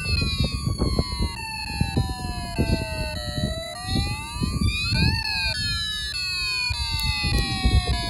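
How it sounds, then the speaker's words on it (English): A loud electronic siren from a Snap Circuits Extreme SC-750 toy circuit wails continuously, its pitch sweeping up and down in a fire-engine pattern, harsh and buzzy with no talking. "And now you hear a fire engine siren."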